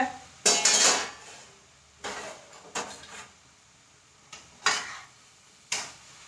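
A metal pan lid is lifted and set down while papaya stir-fry cooks, giving several short clanks and scraping clatters spaced a second or so apart over a quiet kitchen background.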